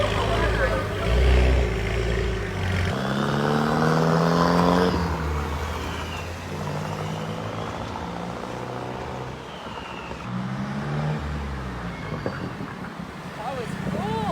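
Turbocharged sports car engine revving, loud and close, climbing and falling in pitch through several sweeps, then dropping to a lower idle with a few more rises, while a person talks over it.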